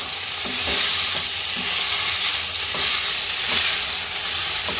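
Chow mein being stirred and tossed in a hot pan, a steady close sizzle with repeated scraping strokes of a spatula at a loose rhythm, no voices.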